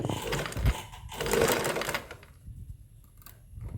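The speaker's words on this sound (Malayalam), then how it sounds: "ഇനി നമുക്ക് എങ്ങനെയാണ് തയ്ക്കുന്നതെന്ന് നോക്കാം" A sewing machine stitches pleats in fabric with a rapid, steady mechanical whir for about two seconds, then stops, leaving near quiet with faint handling noise.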